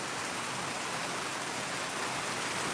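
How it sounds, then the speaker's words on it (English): Heavy rain from a hurricane rain band pouring in sunshine, a dense, loud, unbroken hiss of rainfall close by with no pauses and no voices. "We're in the middle of a rain shower, but it's sunny."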